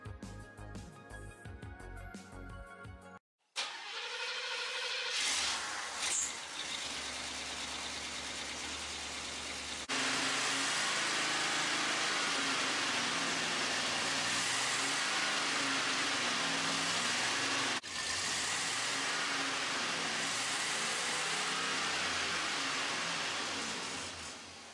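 After a misfire repair, a car engine cranks briefly, catches and settles into a steady idle that runs close and fairly loud to the end, with a short clunk or rattle near the start and no talking.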